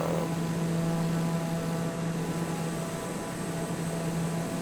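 Cockpit drone of a TBM 930 single-engine turboprop in Microsoft Flight Simulator, a steady broadband roar with a constant low hum, alone and unchanging throughout.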